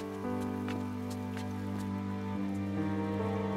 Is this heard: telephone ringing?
no